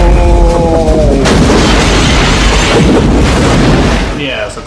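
A movie gun fired at its highest setting, a heavy booming blast with a long rumbling roar, loud and close, with a voice speaking briefly at the start.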